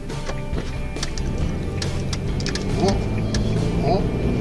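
A Suzuki Every DA17W engine idling through an aftermarket exhaust muffler, a low steady rumble with ticking and clicking noises over it and brief voices in the background.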